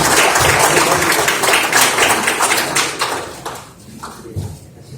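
Audience applause in a Korean science-hall foundation ceremony, dense clapping from a crowd filling the first three seconds, then thinning to scattered claps and fading near the end.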